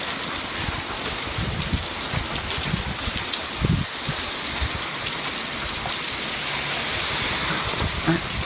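Heavy rain falls steadily during a violent, windy February thunderstorm in Montoison, a dense close hiss of drops with low gusty rumbles of wind, no voices.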